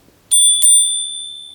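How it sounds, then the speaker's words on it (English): A handlebar bell on a Caroma E68 Pro electric scooter rings twice in quick succession, a loud, bright metallic ding-ding whose tone rings on and slowly fades, with no talk. "There's a bell."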